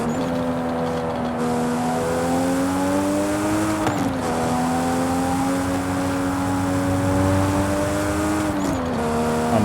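Nissan Skyline R34 GTR engine in Forza Horizon 5, a loud, steady, droning engine note held at fairly constant revs, rising and dipping slightly in pitch across gear changes, with no talking over it.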